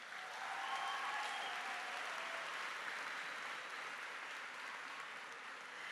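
A crowd applauds steadily at a high school graduation ceremony, dense clapping that holds at an even level for several seconds before slightly thinning.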